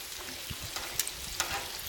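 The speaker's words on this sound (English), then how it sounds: "I've got my griddle hot. I'm frying up some bacon." Soft, steady sizzling of honey bacon frying on a hot griddle, with a few faint pops and crackles and no talking.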